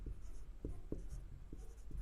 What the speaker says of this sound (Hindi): तो यहाँ पे लिखेंगे घनाभ का